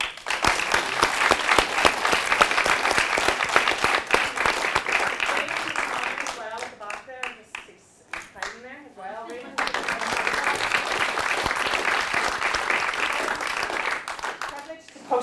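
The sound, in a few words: audience round of applause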